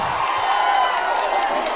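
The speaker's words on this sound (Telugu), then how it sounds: "మీరంతా గట్టిగా చప్పట్లు కూడా చెప్పండి" Crowd at a public political rally in Rajampet clapping and cheering, a dense, steady wash of applause and shouts filling the whole short moment.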